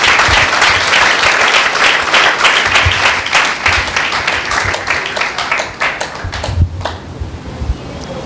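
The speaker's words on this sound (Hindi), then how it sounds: "एक जोरदार ताली इस प्रभु के लिए।" Loud, sustained applause from a church congregation at a year-end meeting, dense clapping that thins toward the end.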